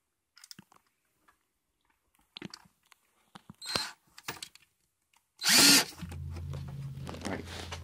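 A power drill drives a screw with a washer into a basement worm bin: a loud, brief whirring burst, then a steady lower hum, after scattered light handling clicks and taps.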